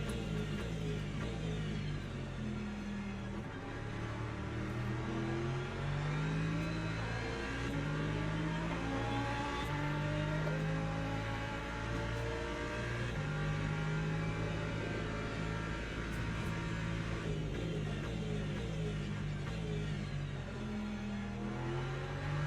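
An LMP2 prototype race car engine revs and shifts through gears in the Le Mans Ultimate racing game, a loud continuous roar rising and falling in pitch for the whole stretch.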